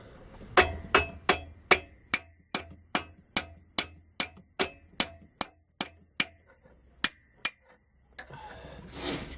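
Metal hammer blows strike a drift punch, about seventeen sharp ringing clangs at a steady pace that slow toward the end, close and loud with no voices.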